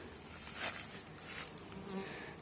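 Bees buzz around hazelnut bushes of the Trapezund variety outdoors, a faint, continuous hum that swells gently as insects drift nearer and away, with no voices.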